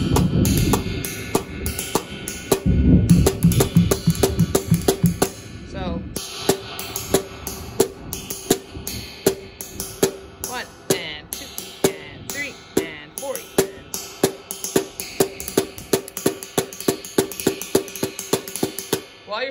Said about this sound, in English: the ride pattern. It's kind of mimicking what the keyboard is doing, or the other musicians